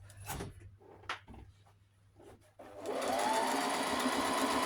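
A sewing machine stitching bias binding on fabric starts up after a few soft handling clicks and bumps, then runs in a steady close whirring hum until the end.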